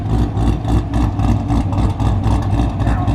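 A naturally aspirated V8 rumbles loud and close with a deep, pulsing low-end burble and rhythmic surges through the whole stretch, with no talking over it.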